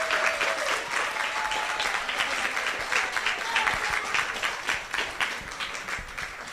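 Sustained audience applause at a city candidates forum in Lauderhill, many hands clapping steadily and fairly evenly at moderate volume for several seconds.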